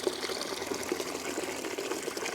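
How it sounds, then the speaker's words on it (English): Water running steadily from an old former drinking fountain beside a canal walk, a continuous close trickle and splash with no talk over it. "That is water."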